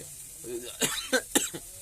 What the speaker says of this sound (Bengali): কাশি উঠছে আমারও কাশি উঠে যাচ্ছে